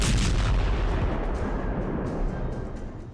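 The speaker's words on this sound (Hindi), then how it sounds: "जोरदार धमाका हुआ टेल अवीव में ही" A loud, continuous rumble of explosions or heavy blasts in Tel Aviv during an Iranian missile attack, with low booming energy sustained throughout and no talking.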